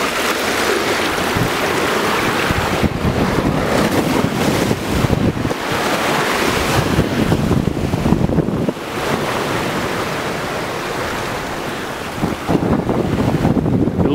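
Strong westerly wind buffets the microphone on the coast at Bluff, New Zealand, a loud, continuous roar with gusty surges and no voices.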